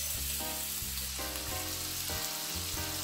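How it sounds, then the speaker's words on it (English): Shrimp laid in a single layer in a preheated pan over medium-high heat, giving a steady close sizzle under background music, with no talking. "So you want to preheat your pan, get your shrimp in there"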